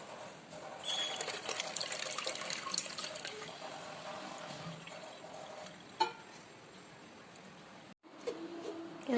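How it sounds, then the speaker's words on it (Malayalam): Curdled milk for mozzarella pours steadily into a strainer, a continuous close splashing trickle that runs for several seconds, eases off, then picks up again briefly near the end, with no voices. "ഇത് നമുക്ക് ഒരു അരിപ്പയിലോട്ട് നമുക്ക് ഒഴിക്കാം."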